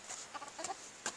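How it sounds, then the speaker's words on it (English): A few backyard chickens cluck softly in short, scattered notes, close but fairly quiet, with a sharper squawk near the end. "Emily started showing off her chickens"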